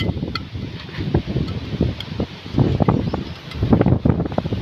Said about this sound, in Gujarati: પવન કેટલો